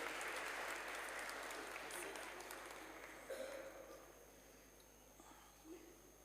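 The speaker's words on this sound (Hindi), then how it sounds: "लोग ताली बजाएंगे।" A congregation at a Hindi carol service in a cathedral church claps for Sunday school children, a broad wash of applause that gradually fades out toward the end.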